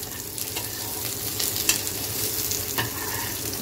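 Stuffed green chillies (bharwan mirch) frying in a hot pan, giving a constant crackling sizzle with a couple of soft clinks as they are turned, close up with no voices.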